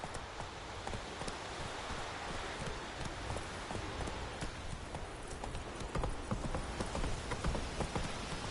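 Horse hooves clip-clopping in The Witcher 3: Wild Hunt on PS4, a steady trotting rhythm close by under a continuous wash of rain and rustling ambience, with no voices.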